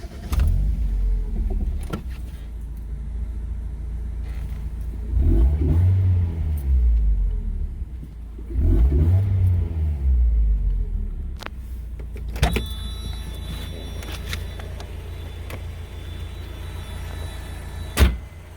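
A car engine with an aftermarket muffler and factory catalytic converter idles warm with a deep, throaty exhaust rumble, revving up twice in smooth swells, then settling; a door or latch clunks near the end.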